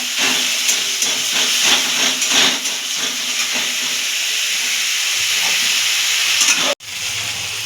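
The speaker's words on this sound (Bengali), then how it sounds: "পেঁয়াজটা হালকা লাল ভাজা ভাজা হয়ে গেছে" Chopped onions frying with salt in a pan while cooking a potato and egg fulori at home, giving a steady, close hiss and sizzle that runs on evenly, then a brief dropout near the end before the sizzling resumes.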